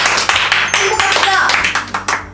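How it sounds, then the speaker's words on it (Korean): Several people clap together in a brisk burst of applause at close range, mixed with overlapping voices and laughter. "박수 한번 주세요. 박수."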